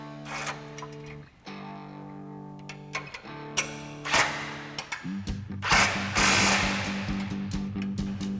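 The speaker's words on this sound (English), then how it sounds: "we're going to come underneath the bumper with our 18mm socket on our impact and an 18mm wrench and tighten these down" Impact wrench with an 18mm socket tightening bolts under a 2021-2023 Ford F-150 RedRock TCX HD front bumper, heard as several short, loud mechanical bursts and rattling hammering, separated by brief pauses with some clanking.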